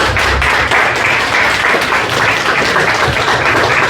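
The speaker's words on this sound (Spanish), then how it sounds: "Damos un fuerte aplauso al Señor." A church congregation gives loud, sustained applause during a service, a dense wash of many hands clapping close by at full strength for the whole stretch without a break.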